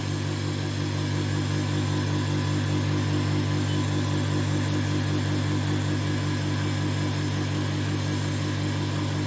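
A single-phase induction motor runs on a lab bench at roughly 2800 rpm, putting out a loud, constant electrical hum with a steady whir and no change in pitch throughout.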